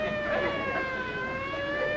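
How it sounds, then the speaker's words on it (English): A wailing siren sounds in the distance, its steady rising and falling tones drifting faintly throughout with little else around. "Them sirens! Somebody's calling the law."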